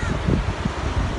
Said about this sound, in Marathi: समुद्राचा भणाण वारा, वातावरण सुद्धा आल्हाददायक.